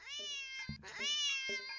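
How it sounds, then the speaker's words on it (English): A cat meows loudly in a few drawn-out, rising and falling cries, reacting to a laser pointer's red dot, close and alone with a brief break between calls. "The cat reaction is immediate."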